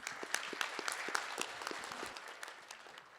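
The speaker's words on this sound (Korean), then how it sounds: "큰 박수 보내주십시오" Audience applause at a PwC business conference session in Korea as a partner walks onto the stage: a steady, fairly soft wash of many hands clapping that thins slightly toward the end, with no talking.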